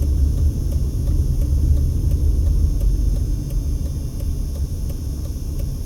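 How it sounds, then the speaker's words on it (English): Heavy traffic rumble from semi-trucks along Fremont Street in Las Vegas, a steady loud low drone of engines and tires rolling past throughout with no gaps. "A lot of semi-traffic on this side of town too."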